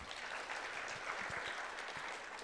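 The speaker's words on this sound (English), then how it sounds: "everybody applaud for David Schiller." A crowd claps steadily, a dense, even patter of applause lasting throughout at moderate distance.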